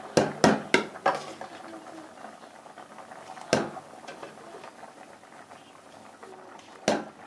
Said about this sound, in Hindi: तमाम चावल हम इसमें जो है वो डाल देते हैं